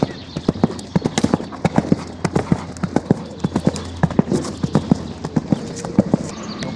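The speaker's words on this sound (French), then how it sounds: "Donc là, on était sur un galop 4 foulées, plus de galop." A horse cantering at a four-stride canter on a show-jumping course, hooves striking in a quick, steady rhythmic beat, close and loud, with faint breathing and background noise between strides.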